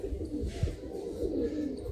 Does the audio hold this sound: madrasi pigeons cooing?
yes